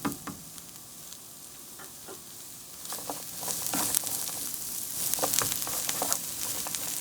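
Chopped onions sizzle gently in extra virgin olive oil that is not yet hot, a soft, steady crackle and hiss with occasional stirring scrapes, close and fairly quiet throughout.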